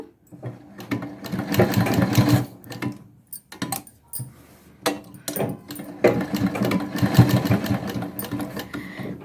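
A sewing machine stitches piping onto a curved neckline, its close mechanical whirring coming in short bursts separated by brief pauses as the fabric is turned.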